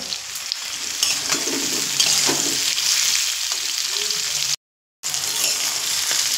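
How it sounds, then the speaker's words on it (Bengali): Sliced ridge gourd frying in hot oil on high flame, a loud, close, steady sizzle with occasional stirring scrapes, interrupted once by a short silent gap. "এবার আমি এখানে দিয়ে দেব ঝিঙেগুলো দিয়েও কিন্তু হাই ফ্লেমেই ভাজতে হবে"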